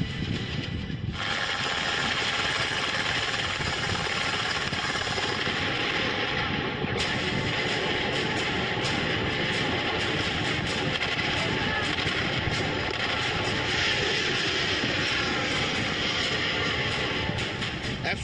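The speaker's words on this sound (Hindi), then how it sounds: "F-16 फाइटर जेट से बम वर्षा" A loud, roaring F-16 fighter jet engine blast with rumbling, crackling bursts mixed in, continuous and intense throughout, amid bombing explosions.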